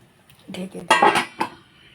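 Metal clatter of a lid set onto a cooking pot of Bengali sukto vegetables, a few close clinks and knocks over about a second, with quieter handling before and after.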